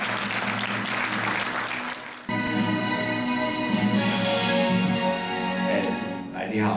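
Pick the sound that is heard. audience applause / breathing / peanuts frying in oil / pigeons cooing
audience applause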